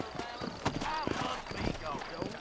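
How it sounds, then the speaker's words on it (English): Horses' hooves clip-clop steadily on a dirt street in the Red Dead Redemption video game, a close, even rhythm of soft thuds heard beneath a man's speech. "You ain't gonna find sturdier horses than these in all of New Ulster."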